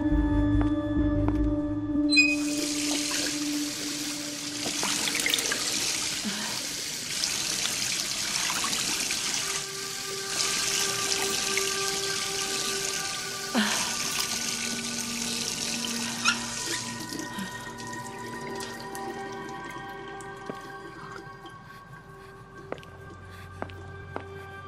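Tap water runs steadily into a sink in the video game Beyond: Two Souls, a loud continuous hiss from about two seconds to sixteen seconds, then fading to a quieter trickle under faint room tones.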